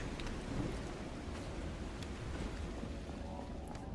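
Steady rain falls in a boat video game, a constant soft hiss and patter with a faint low rumble like distant thunder underneath, moderately quiet and unbroken.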